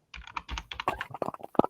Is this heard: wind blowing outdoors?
no